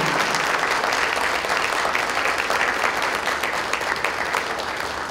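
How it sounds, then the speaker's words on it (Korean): A forum audience gives a full, sustained round of applause, dense and even from start to finish and only easing slightly at the close. "이번엔 박수 한번 보내주시기 바랍니다."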